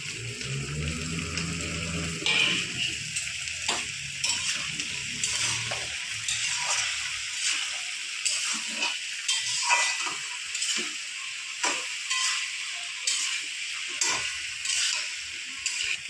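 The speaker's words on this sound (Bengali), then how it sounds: "ভেন্ডিটা ততক্ষণ একটু ভাজা ভাজা হোক" Okra frying in oil in a pan gives a continuous close sizzle with light stirring clicks, while a low humming tone fades out over the first seconds.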